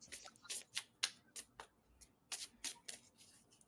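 Crisp riffling bursts of tarot cards being shuffled, several quick flurries with short pauses, close and fairly quiet, no talking.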